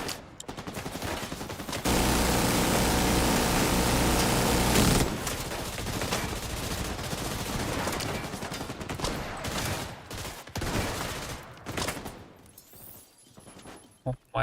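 Sustained, dense turret gunfire from The Division 2 rattles in a steady broadband burst for several seconds, then breaks into scattered shots and impacts, loud and close, with someone talking over the action.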